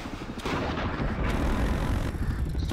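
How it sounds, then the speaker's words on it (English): Missiles fired in the Zombie Gunship Revenant AR game on iOS, a continuous loud roar of heavy booming blasts rolling into one another for nearly three seconds, no talk. "Let me shoot a couple of missiles."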